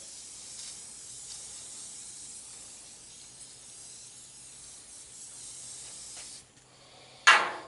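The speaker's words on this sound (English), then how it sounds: "I'm going to spray a light layer on this head and get it colored up" An aerosol can sprays machinist ink onto an M38 Go Devil engine head in a long, steady hiss at close range, ending with a sharp louder burst of spray.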